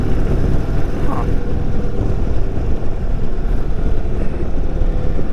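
Indian Super Chief motorcycle cruising curvy back roads, a loud, steady engine drone blended with heavy wind buffeting across the microphone, continuous with no pause.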